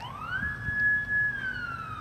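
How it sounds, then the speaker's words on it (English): A siren wails outside, rising and then holding a steady tone, muffled and moderately distant, with low rumbling background noise. "we've got some sirens."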